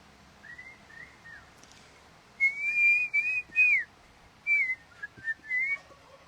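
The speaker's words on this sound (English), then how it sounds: "Look at us whistling things in harmony." Two people whistle a melody together in harmony, the neighbor having started with a song and the second joining in; clear, close, sustained pitched phrases in several bursts with short pauses, no talking.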